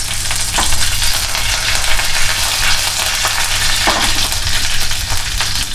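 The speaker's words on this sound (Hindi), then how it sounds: "सूखी लाल मिर्च डाल देंगे।" Dry red chillies dropped into a hot mustard-seed tempering with curry leaves, the gas already off, giving a close, continuous crackling sizzle with scattered sharp pops throughout, no talking.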